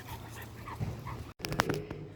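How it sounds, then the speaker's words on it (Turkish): Large dog outdoors on a walk, panting and breathing audibly at close range, with a short whimpery sound and a couple of sharp bursts after a brief cut in the middle. "Büyük bir köpek gördük şu anda."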